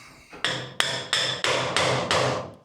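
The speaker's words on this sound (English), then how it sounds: "Little hammer." A hammer strikes a vintage car's steering column mount six times in a steady rhythm, each ringing metal tap close and loud, with no voices.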